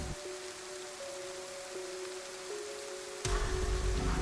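Steady rain hisses across the scene in the Anarchy Livonia game server, a continuous wash of falling water under a faint sustained tone, swelling louder and fuller near the end.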